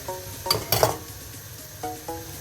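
Carrots, corn and celery tipped into a pan for shepherd's pie: soft sizzling with a couple of sharp metallic clinks of a utensil against the pan and brief stirring scrapes, no talk.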